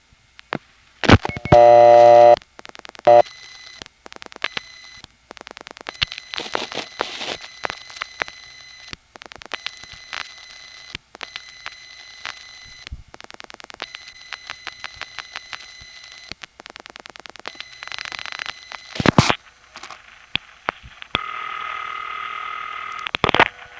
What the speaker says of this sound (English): it's the same ringing machine, just two different phases